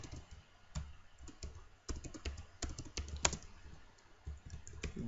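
Keys clatter on a computer keyboard as C++ if-else code is entered, an uneven run of close, crisp clicks with short pauses and no voices.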